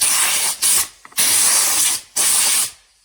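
Compressed air blows off a primed R2D2 dome, heard as three loud, close hissing bursts separated by short pauses.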